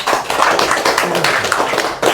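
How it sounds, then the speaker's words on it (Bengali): Children clap together as a group after a story about a woodcutter and a water fairy, making a dense, fast patter of many hands at close range for about two seconds. "সবাই একটা জোরে হাততালি দাও"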